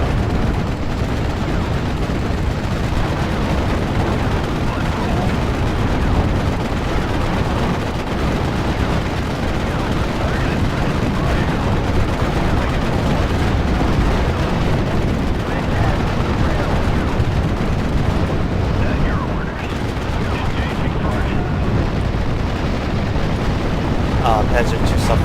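Tank and artillery gunfire in the WWII strategy game Steel Division: Normandy 44, a dense, continuous rumble of shots and explosions filling the whole stretch at steady loudness.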